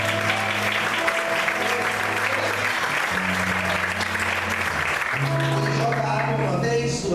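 A church congregation applauding during a Portuguese-language sermon, with loud, sustained clapping from many people while sustained musical tones play underneath, shifting notes throughout.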